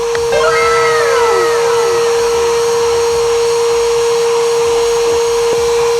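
STIHL SEA 20 vacuum cleaner sucking sand and dirt out of a carpet, a loud steady motor whine with a fixed high tone and rising and falling pitch sweeps as the head moves, no voices.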